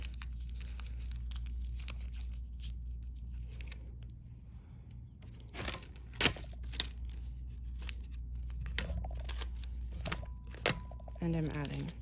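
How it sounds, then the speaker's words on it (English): Newspaper scrunched by hand into a ball for a figure sculpture armature, soft crinkling with sharper crackles and rustles coming in bursts, fairly close, over a steady low background hum. "I'm taking my paper, I'm crumpling it to about the same size."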